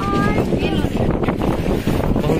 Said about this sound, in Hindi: बहुत तेज हवा चल रहा है यार।